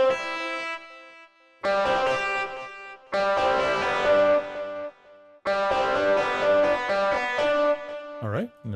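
Ample Telecaster II electric guitar chords struck in separate bursts, each ringing out with repeating delay echoes trailing behind, ending in a short bending note.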